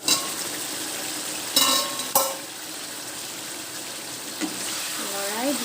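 Cashew chicken cooking in a pan over a medium flame: a constant loud sizzle with a few sharp scraping stirs, and a voice briefly audible near the end.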